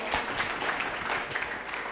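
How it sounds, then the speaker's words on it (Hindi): Crowd applause at a Vedic mantra pronunciation competition welcoming a Sanskrit university student, a steady, even wash of many hands clapping. "मृत्युंजय शास्त्री का स्वागत करेंगे हम तालियों के द्वारा"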